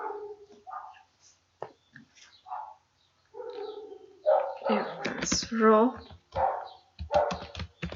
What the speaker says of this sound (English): I'm so sorry for the dogs, they are making too much noise today.